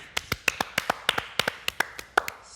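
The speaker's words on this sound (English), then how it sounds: "Give yourselves a round of applause." A small group of people on a bed clap briefly, about a dozen sharp, distinct claps in an uneven rhythm, fairly close and not very loud.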